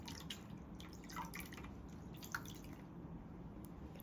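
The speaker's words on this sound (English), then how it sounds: "I'm going to towel that off for you with a fresh bowl of water." Water dripping from a towel into a bowl during a facial treatment, with soft, scattered drips and small splashes spaced irregularly over a faint background hush, close and quiet.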